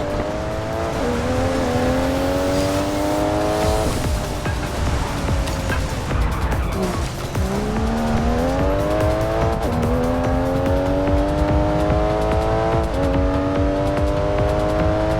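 A car races in Forza Horizon 5, its engine climbing repeatedly through the revs with sharp drops at each gear change, loud and close, with tire squeal and road noise layered underneath throughout.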